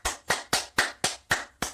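Seven sharp hand claps in a steady, even rhythm, close and loud, with no voices.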